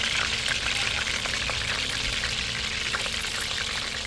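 Fish and eggplant fry in hot oil in a pan, a dense, continuous crackling sizzle with scattered pops, steady and close throughout with no talking.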